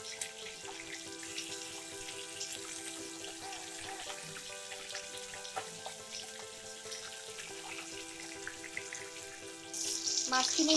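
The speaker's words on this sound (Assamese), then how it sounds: "ইয়াত মই মাছখিনি এতিয়া দি দিছোঁ" Pieces of fish frying in mustard oil in a wok make a steady close sizzle and crackle, with tonal background music underneath and a louder burst of hissing near the end.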